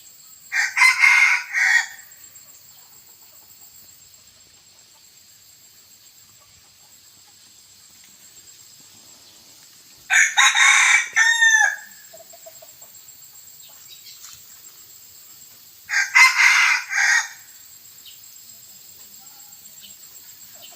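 A young crossbred fawn-colored rooster crows three times, each call loud and close, separated by long quiet gaps, the crows bursting out in a strained, youthful cock-a-doodle.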